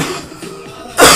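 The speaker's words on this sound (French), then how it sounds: "Je m'excuse si des fois ça arrive que vous m'entendez tousser" One short, sharp cough bursts out near the end from a person with a cough, close and loud after a quiet stretch.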